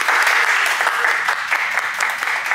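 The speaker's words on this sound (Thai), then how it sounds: "ปรบมือให้เพื่อนหน่อยจ้ะ" Children in a classroom give a brief burst of lively, dense hand clapping, loud and close, for a pair of classmates.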